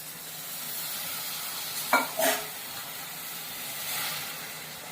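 A soft, steady sizzling hiss fills the background, broken by a couple of brief scraping stirs in a pan around the middle.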